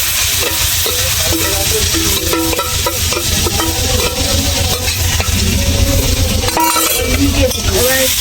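Marinated mutton hits hot oil left over from frying potatoes and sizzles loudly and continuously in the pan, with stirring scrapes and small clinks of the utensil throughout.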